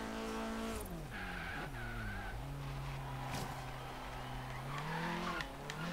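In Forza Horizon, a Vauxhall Corsa VXR or Renault Clio RS 200 slides sideways, its tires squealing in drawn-out, wavering whines over the steady, close drone of the engine, which rises and dips as it drifts.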